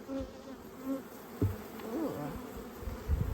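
Honeybees buzz around open hive frames during a brood inspection, a close, steady droning hum with individual bees swelling and passing near; a voice gives a brief exclamation.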